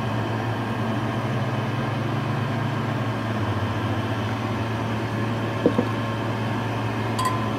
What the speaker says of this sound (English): we got some pretty fierce bubbling going on.